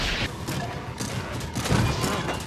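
Cannon in the Nerf N-Strike Wii rail shooter game booming several times over a couple of seconds, heavy thumping blasts with rumbling low ends, loud and close amid game noise.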